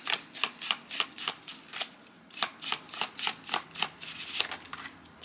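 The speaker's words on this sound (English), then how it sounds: "It's really hard to shuffle, like, watch." Tarot cards riffle-shuffled by hand at close range, a quick series of crisp papery bursts in an uneven rhythm with brief pauses, loud and alone without talk.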